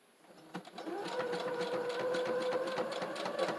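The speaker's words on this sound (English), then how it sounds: "You cannot go really fast with this machine when you have one of the decorative stitches." A sewing machine works decorative satin stitches on fabric at a moderate pace, giving a soft, steady mechanical whir with a rhythmic needle patter and a faint tone that holds throughout, heard close and alone.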